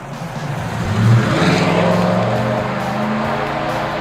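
A 1998–2003 Ford F-150 V8 fitted with a Flowmaster American Thunder cat-back dual exhaust and Super 40 series muffler gives a deep, steady rumble that swells briefly as it revs, close and loud, with no talking.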